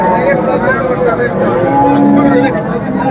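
Cattle and goats crowd a busy livestock market, with a constant loud murmur of animals and milling people, and a drawn-out moo rising briefly through the din.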